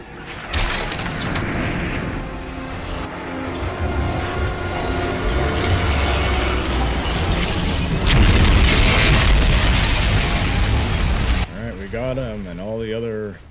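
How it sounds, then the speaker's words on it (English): Ceph aliens bursting apart in golden flames of goo in the sci-fi shooter Crysis 3, loud booming blasts and crashing debris rolling on over a dense game soundscape, with a brief quieter stretch near the end. "Ceph explode in golden flames of goo"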